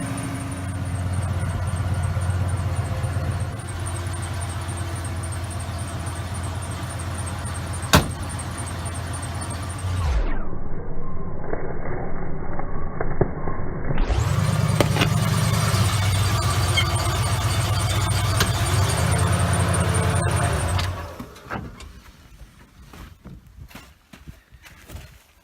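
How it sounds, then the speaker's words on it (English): A car drives over a tape measure, its engine a steady close rumble that cuts out for a few seconds midway, then returns just as loud before dropping away to quiet. "I've put it back together again, and I'm gonna drive over it."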